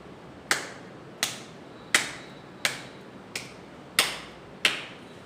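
Spondylitis patient clapping hands during an exercise session, seven sharp single claps spaced about seven-tenths of a second apart, crisp and fairly quiet in a still room.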